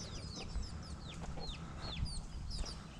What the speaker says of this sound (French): Il y a même des poules.